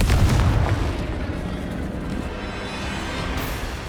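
A Confringo explosive spell cast in Hogwarts Legacy, a loud booming blast at the start that fades into a rumbling, crackling tail, with continuous game noise underneath.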